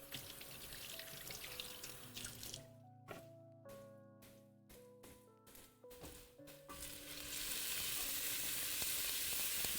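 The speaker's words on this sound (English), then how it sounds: "I could hear the sizzles." Onion and pepper sizzling in a pan as they are stirred for chicken tortilla soup, a soft continuous frying hiss with brief stirring scrapes that grows louder and brighter toward the end, with no talk.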